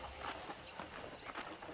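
Horse hooves clip-clop in a steady walking rhythm in Red Dead Redemption, faint and somewhat buried under a constant hissy ambient background.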